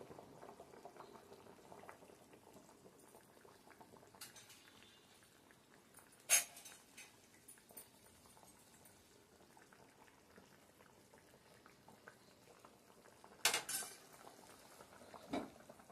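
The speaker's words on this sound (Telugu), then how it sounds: "బాగా మసిలాడుతుంది." A pot of Godavari-style pulasa fish curry (pulusu) bubbles at a steady low simmer, with faint continuous popping and a few sharper clinks of metal.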